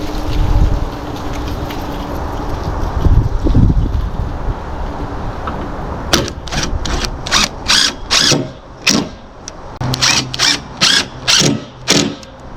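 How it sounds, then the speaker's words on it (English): A long bar clamp is cranked tight against a wooden DIY handicap ramp, giving a run of quick, evenly spaced ratcheting clicks in the second half after a stretch of dull, windy handling noise. No voices. "So now I need my clamp because I want to keep this in line."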